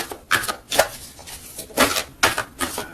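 A tarot deck being cut and handled, a series of crisp, close card slaps and riffles in short separate bursts with quiet gaps between.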